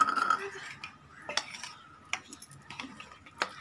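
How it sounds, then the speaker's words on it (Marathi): A spoon clinks and scrapes in a bowl, stirring cornflour and milk powder together in a few short, sparse taps against a quiet background. "आपण सर्व मिक्स करून घेणार आहोत."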